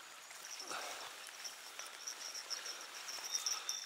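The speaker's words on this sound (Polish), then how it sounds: "cały czas pada" Steady rain falling outdoors at a pike fishing spot, a soft continuous patter with faint high insect-like chirps over it and no talk.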